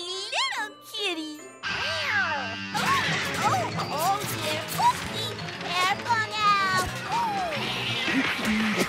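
A cartoon kitten gives several high, wavering meows mixed with jingling and crashing effects from an animated comedy, with a voice talking between the cries.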